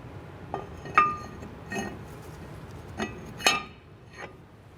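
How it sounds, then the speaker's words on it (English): A Ford Mustang rear brake rotor is set onto an anti-seize coated hub, giving several light metallic clinks and taps spaced a second or so apart, faint and close with no talking. "go ahead and get our rotor on"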